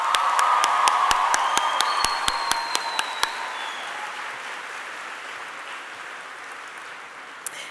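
Graduating class and crowd applaud at a 2018 high school graduation ceremony, with sharp individual claps standing out at first, then steady, dense clapping that gradually thins and fades.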